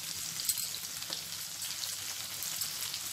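Chopped onion and green chillies fry in hot oil, a continuous soft sizzle with light crackling pops, heard alone at a moderate level.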